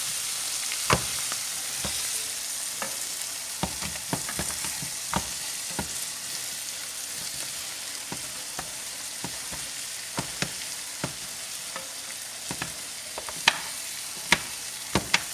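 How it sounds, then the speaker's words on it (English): Onion and poblano peppers sizzling in hot oil in a pan, a steady close crackle with scattered sharp pops and spits throughout, no voices. "Hear that sizzle?"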